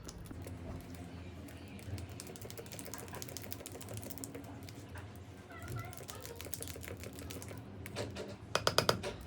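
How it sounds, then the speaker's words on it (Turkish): Pudding ingredients with whipped cream mixed quickly in a bowl, a rapid run of light clicking and tapping strokes that ends in a louder burst. "Bütün malzememi hızlıca karıştırıyorum."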